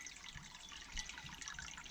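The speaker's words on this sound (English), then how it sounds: "I've got about 25 litres of water to drain out this now" Water drains from a narrowboat's new hot water cylinder as a quiet, steady splashing trickle with small irregular drips. No voices are heard.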